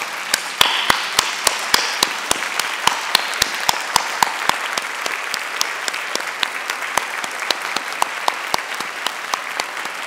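An audience at a scholarship award ceremony applauds warmly, a dense, sustained clapping with sharp individual claps standing out across the whole stretch.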